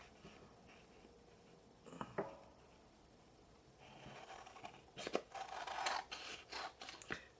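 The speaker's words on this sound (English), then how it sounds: "I'm just going to follow along the edge of the card to cut it out." Card being cut out along its edge while making Christmas cards, heard as faint close scraping and rasping snips that grow busier and louder toward the end, with no talking.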